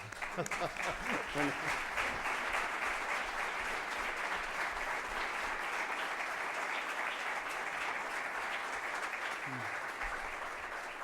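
Audience at a lecture applauds a student, sustained even clapping that fills the room, with a brief spoken word at the start and a voice near the end.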